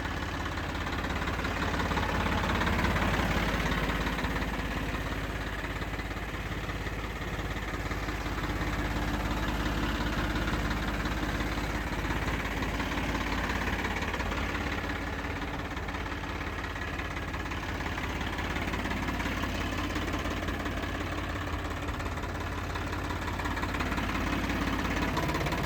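A Swaraj 744 FE 4x4 tractor engine idles steadily close by, a constant low diesel rumble with faint knocking and vibration, unbroken for the whole stretch with no voices.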